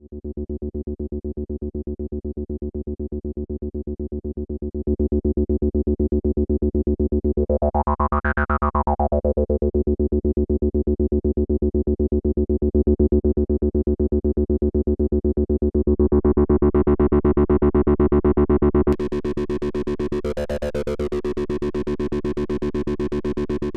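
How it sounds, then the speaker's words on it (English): A buzzy, heavily distorted acid synth bass drones steadily, with a resonant filter sweep rising and falling, then brighter, harsher layers joining later. "crank it up really high to get that typical distorted acid sound"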